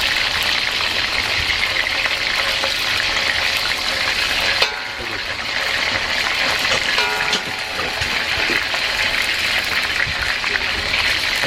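Small batches of beef pieces fry in hot oil in a wok, giving a loud, steady sizzle that holds almost unbroken throughout, with a brief dip midway.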